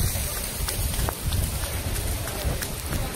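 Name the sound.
heavy rain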